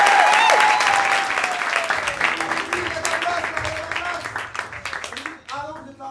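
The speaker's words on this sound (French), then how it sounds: "On peut applaudir. Merci la régie." A theatre audience at an open-stage show applauds the sound desk, dense steady clapping filling the room for several seconds before thinning out, with voices and a brief tonal whistle woven through.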